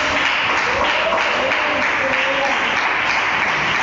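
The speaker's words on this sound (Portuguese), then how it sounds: "Palmas para Jesus" Church congregation applauding during a worship service, with steady, dense clapping filling the space throughout.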